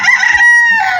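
A rooster crows close by, one loud, drawn-out call with a strained, rising-then-falling tone.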